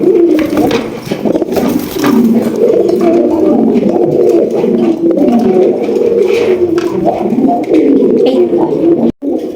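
Golla pigeons coo loudly and steadily in a rolling, overlapping chorus close by, with the low throaty calls continuing almost without pause.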